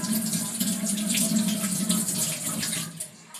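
Tap water runs into a sink while strawberries are washed under it, a continuous close hiss and splash that eases off near the end.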